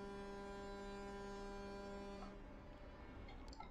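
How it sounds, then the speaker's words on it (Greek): A ship's horn blows in a vehicle simulator video game, one long, deep, steady tone that holds for about two seconds, then cuts off. Quieter game ambience and a few faint clicks follow. "Πάμε και κόρνα."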